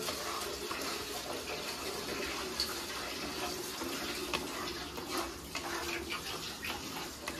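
Gobindobhog rice is rinsed under running water, a steady, fairly faint stream from a tap with light splashing and swishing throughout.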